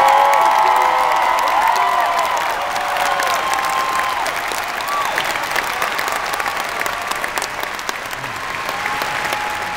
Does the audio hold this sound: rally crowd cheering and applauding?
yes